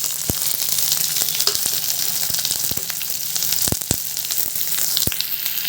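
Chopped onions sizzle in hot rice bran oil in a kadai, a steady close hiss broken by sharp pops and crackles throughout.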